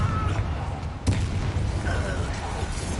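A Confringo blast spell cast in the Hogwarts Legacy game sounds as a dense, rumbling explosion over a steady bed of game noise. A sharp impact hits about a second in, then the din carries on at an even loudness.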